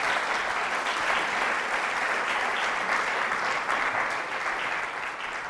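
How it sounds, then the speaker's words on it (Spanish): A church congregation applauds steadily, a dense even wash of clapping that holds at full volume throughout and only dips slightly near the end. "Denle un fuerte aplauso al Señor."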